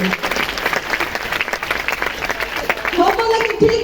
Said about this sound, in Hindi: एक जोर ताली होना चाहिए गुरु के लिए।